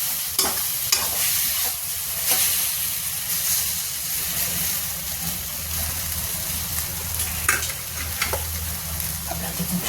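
Aloo baingan chokha being stirred and mixed in a hot pan: a continuous soft sizzle and hiss with repeated scraping and clinking strokes of a spoon against the pan, close and steady throughout.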